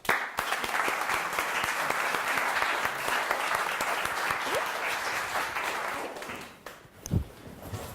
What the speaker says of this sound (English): I would also like to ask for a round of applause.